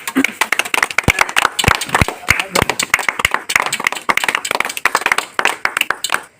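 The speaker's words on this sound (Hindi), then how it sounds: "ताली मारी ताली" Sharp individual hand claps at a comic Maithili wedding scene, irregular and fairly close, coming in quick uneven bursts as a few people clap together with voices mixed in.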